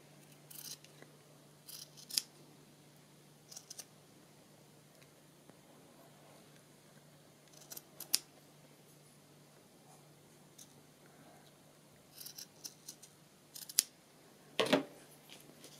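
Small scissors trimming a paper giraffe embellishment for a baby journal: quiet, close snips in short scattered clusters, with pauses between cuts and no talking.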